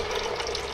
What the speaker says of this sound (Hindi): थोड़ा सा पानी इसमें ऐड कर देंगे